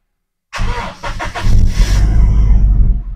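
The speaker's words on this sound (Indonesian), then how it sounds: "Kita dengarkan mesinnya dari dalam." A Toyota Innova 2.0 manual, heard from inside the cabin, cranks after a short silence and catches into a loud, deep, steady idle rumble with a slight rhythmic pulse.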